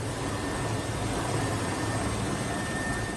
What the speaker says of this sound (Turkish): Helikopterler kurtarma operasyonunda işte böyle görev aldı.